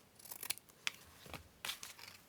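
Scissors trimming a paper file folder, a few crisp snips and short cutting rustles, close and fairly quiet, with no talk.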